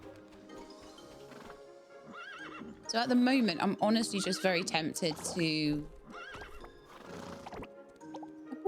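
Horses in the farm game Starsand Island whinny loudly and at length mid-clip, with quieter animal calls before and after, while a person talks over them.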